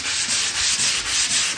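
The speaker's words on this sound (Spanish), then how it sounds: "Ahora estoy lijando para ver bien todas las imperfecciones que tiene." A steel car panel is sanded by hand with 120-grit sandpaper, giving a loud, close, rhythmic scratching with steady back-and-forth strokes.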